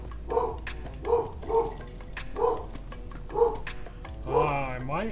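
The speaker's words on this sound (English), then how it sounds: "Sorry about the dogs." Dogs bark repeatedly in a home, with around six sharp barks spaced unevenly over several seconds. The barks are moderately loud and sound somewhat distant, with a steady ticking background, and a drawn-out howl or whine comes at the end.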